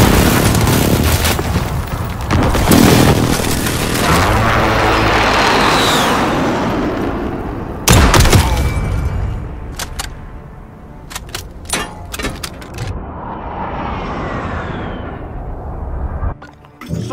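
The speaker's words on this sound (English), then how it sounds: "Be advised, friendly precision airstrike inbound." Friendly precision airstrike explosions in a video game: heavy rolling booms fill the opening seconds, a sharp loud blast hits midway, then scattered cracks and bangs follow before a final thump.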